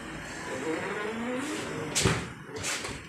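A push-pull swing door on a door closer shuts with a couple of sharp knocking impacts near the end, set against a faint background hum.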